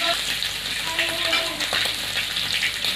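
Chicken for chicken noodles fries in oil in a pan with a loud, crackling sizzle, stirred with a few scraping strokes and brief soft clinks, close up and without talk.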